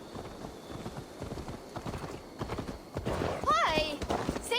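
Horse hooves clip-clop in a steady walking rhythm in Assassin's Creed Valhalla, soft and close, ending with a horse's brief whinny.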